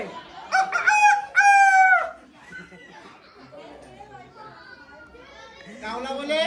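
A person's voice imitates a rooster's crow in two drawn-out, rising calls, followed by softer chatter and another crow-like cry at the end.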